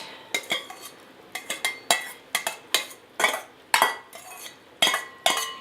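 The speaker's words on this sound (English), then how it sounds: "I'm going to go ahead and add my veggies that I've already cooked" Precooked vegetables spooned and stirred into a pot of beef, brown rice and mushroom soup, with a regular series of sharp clinks and scrapes of a utensil against the pot, close and clear, and no talking.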